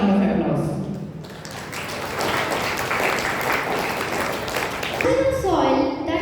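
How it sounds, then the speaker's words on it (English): A crowd claps steadily for several seconds at a school Independence Day celebration, a dense wash of applause, before a voice begins speaking near the end. "Please welcome her with a huge round of applause."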